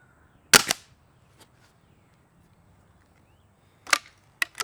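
Sig Sauer ASP20 .177 air rifle firing: a single sharp crack near the start, then two more snappy shots close together near the end, separated by quiet.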